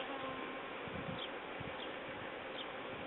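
Honey bees hum at an apiary in a meadow, a soft, continuous buzzing drone at a moderate distance with faint passing tones as individual bees fly by, heard without any talking.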